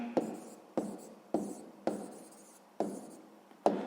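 Pen strokes scratch across paper as a math answer is written down, in regular bursts each opening with a crisp tap; soft, close and alone.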